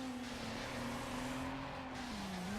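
Car spinning out in the video game Need for Speed Underground, a sustained engine drone with a steady tire squeal whose pitch dips near the end, loud and continuous.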